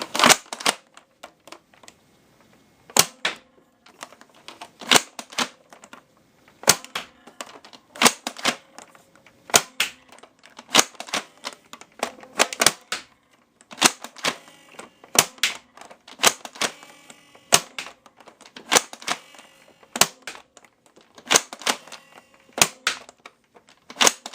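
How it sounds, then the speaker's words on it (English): A Buzz Bee Maniac foam dart blaster fires a series of test shots, sharp close clicks and snaps in uneven clusters separated by brief quiet gaps as it is primed and triggered repeatedly. "take the Maniac and take a few test shots to see what kind of feet per second it's getting"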